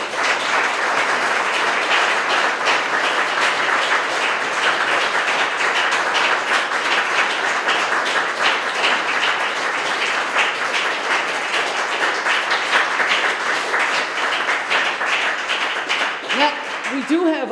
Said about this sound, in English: if you just keep that applause going another few minutes